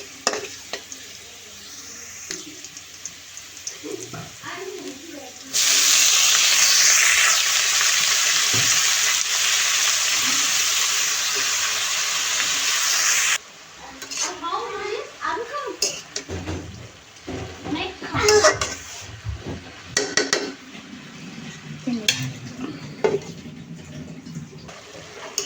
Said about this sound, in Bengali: এটার মধ্যে পেঁয়াজ দিব না, শুধু রসুন দিয়ে আপনার শাকটা রান্নবো।